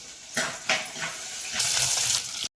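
Crushed garlic and green chillies fry in hot oil, sputtering in close bursts as the pieces hit the pan, then settling into a louder steady sizzle before cutting off.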